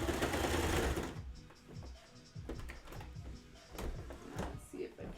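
Sewing machine stitching fabric while making clothes, a loud continuous whirring burst at first, then shorter stop-start runs of stitching with a speaking voice faintly in the background.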